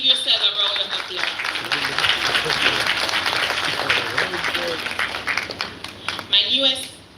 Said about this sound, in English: You can all give yourself a round of applause